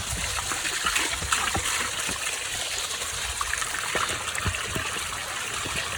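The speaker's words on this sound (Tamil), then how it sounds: "இது அங்கே வருது வீழ்ச்சி வருது." A mountain waterfall stream of water rushes down from a high peak, making a steady, loud, broadband roar with small splashes throughout and no talking.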